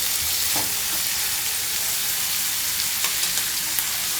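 Curry leaves and green chillies fry in a pan of gizzard curry with a loud, continuous hissing sizzle, and a few faint scrapes of stirring are heard close by.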